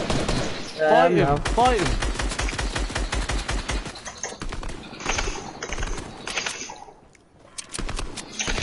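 Rapid bursts of gunfire from a PS4 video game, with loud repeated shots clattering through a continuous game mix. Excited voices talk over it throughout.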